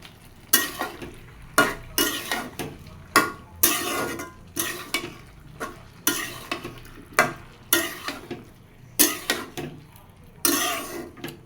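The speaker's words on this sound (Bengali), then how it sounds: "সেই সাথে দেব হলুদ গুঁড়ি দিয়ে ভালো মতো কষাই নেব" Spices with ginger-cumin paste and turmeric powder sauté in a pan, with loud rhythmic scraping and stirring bursts roughly every second over a low sizzle, close up, and a brief throat-clearing sound among them.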